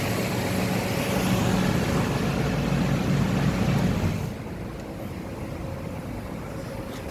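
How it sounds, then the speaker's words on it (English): A car motor with a small knocking fault idles while the air conditioning runs, a steady low rumble and blowing hiss that drops to a quieter hum partway through, with no talking. "I got this little knocking sound coming from my motor"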